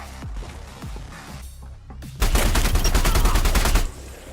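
Rapid automatic gunfire in a space combat game, Elite: Dangerous, starts with a few scattered shots, then bursts into a loud, dense volley that runs for under two seconds before stopping abruptly.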